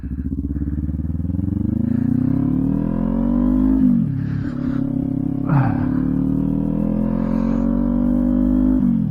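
A motorcycle ridden on a road at night, its engine droning steadily and close with rising and falling pitch as it shifts and accelerates, a continuous loud rumble throughout.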